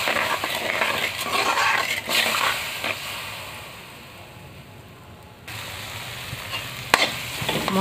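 Spices are stir-fried in a pan for a thin Bengali poa bhola fish curry: sizzling with scraping spatula strokes and occasional sharp metal clinks, a quieter lull midway, then renewed frying.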